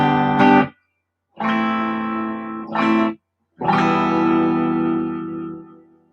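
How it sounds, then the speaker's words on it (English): Sustained electric guitar chords ring out in several strums with short gaps, each note tail washing into a spacious reverb. "You can hear that reverb, right?"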